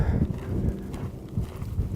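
Horse hooves canter around a round corral, a dull, uneven thudding rhythm of repeated footfalls that runs steadily throughout at close range with some background rumble.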